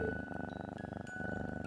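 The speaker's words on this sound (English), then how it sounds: "He's purring!" A cat purrs in the video game Trails of Cold Steel, a steady rhythmic low rumble over a sustained musical background tone.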